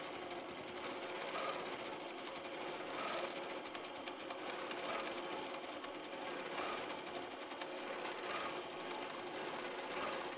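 A sewing machine stitches free-motion quilting on a Northcott Fabrics Color Play panel, its fast, steady needle hum running continuously and close throughout with slight surges in speed.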